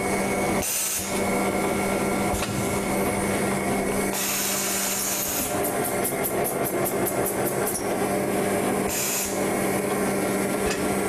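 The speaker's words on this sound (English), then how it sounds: "You can hear the feeder's going to start up, the vacuum pump." Loud mechanical whirring and rasping of a commercial laminator's feeder and vacuum pump running continuously, with a steady hum and periodic rhythmic clicking bursts.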